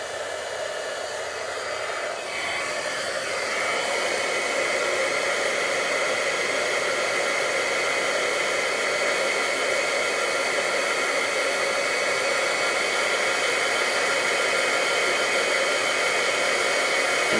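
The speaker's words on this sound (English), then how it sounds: "cover your ears for just a moment while I warm up my embossing gun" A heat embossing gun used for card-making blows a steady, loud broadband whoosh like a hair dryer, starting quieter and building within a few seconds, then holding an unbroken roar nearby with no talking.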